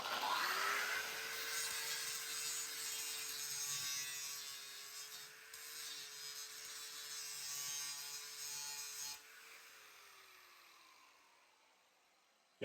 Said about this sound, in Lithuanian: Ir parodysiu truputį, kaip šitas diskas šlifuoja.